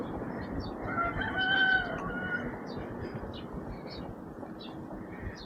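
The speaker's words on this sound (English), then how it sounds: "Right, chickens here, look." Chickens in cages cluck and cackle amid a dense, noisy background of many birds, with a brief louder squawk early on, on the waterfront in George Town, Penang, Malaysia.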